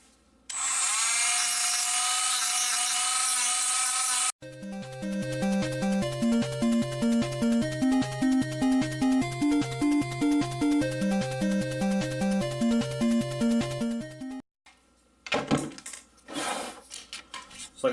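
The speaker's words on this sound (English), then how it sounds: "I'm going to use Dremel, and I'm going to just sort of smooth out the bottoms of each one of these" A Dremel rotary tool smooths and sands the bottoms of parts on a Warhammer 40K Leman Russ model kit, a loud steady high whine giving way to a long pulsing grind, then brief scraping bursts near the end.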